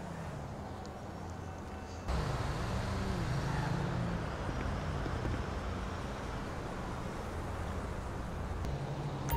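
A car engine starting in GTA 5 with real-life mods: a low, quiet background gives way about two seconds in to a sudden, louder, steady idling rumble that carries on to the end.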